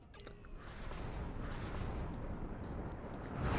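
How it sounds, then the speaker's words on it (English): Artillery fire pummels defenders in the wartime strategy game WARNO as a steady, faint rumble of overlapping distant blasts and gunfire that swells toward the end. "the artillery is just pummeling these defenders"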